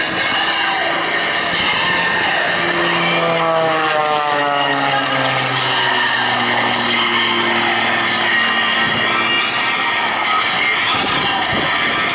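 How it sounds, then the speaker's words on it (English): Aerobatic propeller airplane performing at an air show, its engine droning loudly and continuously with a pitch that slides downward as it passes close by and pulls away. "We watch it fly the airplane right on through."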